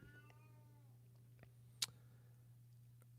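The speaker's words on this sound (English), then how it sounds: "Got my cat meowing over there." A pet cat meows a few times somewhere off to the side in a quiet room beside a Yamaha Disklavier GB1K grand piano, faint thin cries over a steady low electrical hum with no talking.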